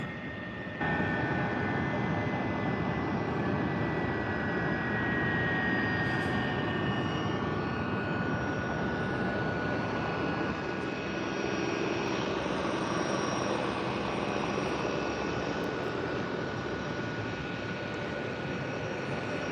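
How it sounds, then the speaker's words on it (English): Steady, broad jet engine roar with a high whine running throughout, fairly close and continuous, from a Delta airliner taxiing at Tampa International Airport. "if you can hear that, Delta's about to taxi out"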